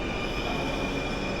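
A metro rail train rolls along with a steady, loud rumble and a sustained high metallic squeal from its wheels, no voices.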